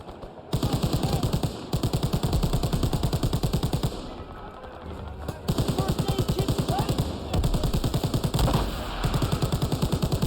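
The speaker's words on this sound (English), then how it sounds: "MG42 actually fires a lot faster than this." A WWII-era German MG42 machine gun fires long, rapid bursts of automatic fire, loud and dense, with brief pauses between strings of shots; faint talk sits underneath.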